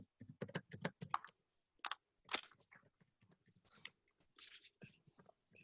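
Quick bursts of typing on a computer keyboard during an online class, clusters of sharp clicks in fast runs with pauses between them, fairly close and moderately quiet.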